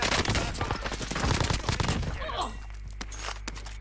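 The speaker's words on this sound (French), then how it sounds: "Je me fais tirer dessus." Loud bursts of automatic gunfire in Call of Duty Warzone, rapid overlapping shots that crowd the first half and then thin out beneath a low steady hum.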